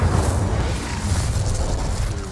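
An Incendio fire spell from Hogwarts Legacy bursts out as a short, steady roaring rush of flame with a deep rumble underneath, loud and sustained for a couple of seconds with no talking.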